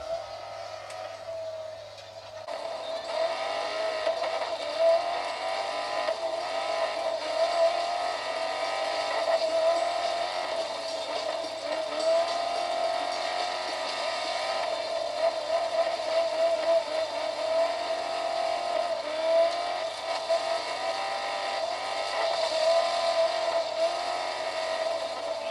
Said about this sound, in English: this game is such fun to play. I love myself rally racing games